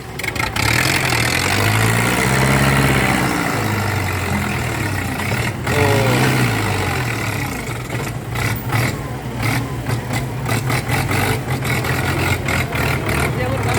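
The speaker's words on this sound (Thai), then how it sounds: "ขับรถไถครับ" A Ford 6640 tractor engine runs at a steady idle, low and rumbling with a few rises in revs, close by while people talk over it outdoors.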